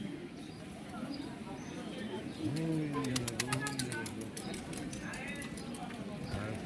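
Several pigeons coo in low, rolling calls over a busy crowd murmur at a shrine in Sylhet, with scattered clicks and clatter nearby.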